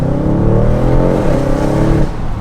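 An Audi RS6 Avant with a new downpipe and tune revs loud and close, its engine pitch climbing steadily in a sustained roar before dropping off near the end.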